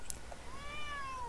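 A pet cat on a pavement gives one clear, drawn-out meow close by, rising and then falling, with a quiet outdoor background and no talking.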